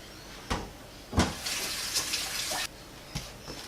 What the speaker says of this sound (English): So then I just wash the chicken.